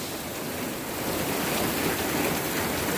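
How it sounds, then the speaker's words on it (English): Hail pounds down during a storm outside a house and shop, making a loud, dense and continuous clattering roar with no pauses and no voices. "That's hail."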